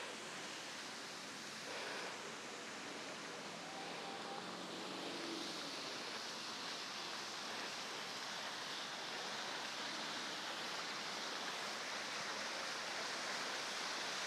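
A water feature in a Singapore park flows in a steady, broad rushing wash, fairly loud and constant throughout with no talk.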